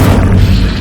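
An Incendio fire spell in Hogwarts Legacy lands as a single very loud, deep booming blast, heavy in the low end and over in under a second, with no voice over it.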